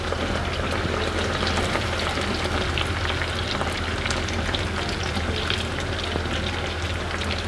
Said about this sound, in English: Okay, our oil is ready, so we can go on with frying.